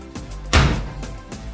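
A truck door on a Chevrolet C10 fitted with Honda door seals swings shut in one solid, close thud, with faint handling noise just before and a lighter knock or two afterward.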